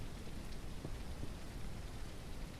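Rain falls in the farming video game Ranch Simulator as a dense, even hiss of drops on surfaces. The patter is steady and moderately quiet, with no voices over it.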